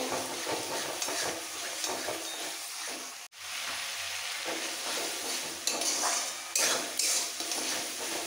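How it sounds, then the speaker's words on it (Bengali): Ground prawn paste is sautéed with spices in a pan, producing a close, loud, continuous sizzle with spatula scraping and metal clinks against the pan. A brief dip interrupts it, then frying resumes strongly with no voice. "এবার একসাথে মশলার সাথে কষিয়ে নেব"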